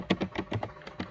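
Rapid bursts of keystrokes on a computer keyboard as a command is typed, about eight close, crisp taps in an uneven rhythm with no talking.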